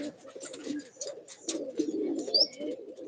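Pigeons cooing softly nearby in a series of low, throaty burbles, with a brief higher chirp near the end.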